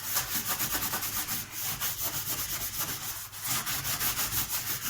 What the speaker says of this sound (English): give it the once over with the Brillo pad